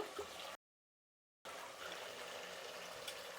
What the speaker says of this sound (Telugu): ఇప్పుడు దీంతో ఇంకా 2 గ్లాసులు నీళ్ళు పోసినామంటే సరిపోతుంది.